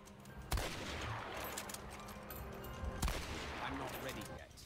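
Rifle gunfire in the Hunt: Showdown video game, with two sharp shots about two and a half seconds apart rising over a steady bed of game ambience and noise.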